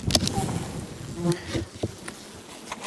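Honey bees buzz close by at a hive beside a buckwheat field in an irregular drone, wingbeats rising and fading as individual insects pass near.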